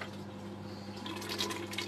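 Liquid splashing and sizzling in a cooking pot as pepper and palm oil are added, a steady broadband hiss with brighter bursts near the end, close and fairly quiet over a low hum.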